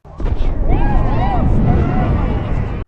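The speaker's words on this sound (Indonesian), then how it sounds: "tiba-tiba terjadi ledakan" A loud, deep explosive boom with a rumbling tail in the zombie video game World War Z, while a voice chatters over the blast.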